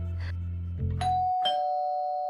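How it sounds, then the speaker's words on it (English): A doorbell rings with a two-tone ding-dong chime, close and clear, its tones ringing on after a low hum cuts off. "Oh, it's the doorbell."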